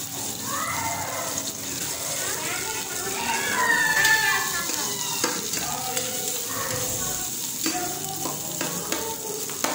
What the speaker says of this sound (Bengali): পেঁয়াজ দিয়ে পেঁয়াজটা ভাজতে হবে।